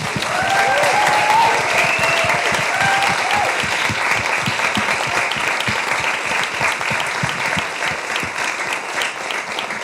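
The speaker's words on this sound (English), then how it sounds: "And one last time, round of applause for Michael Norton" An event audience gives a final round of applause for Michael Norton, thick sustained clapping that starts strong and eases slightly toward the end, with faint voices mixed in early on.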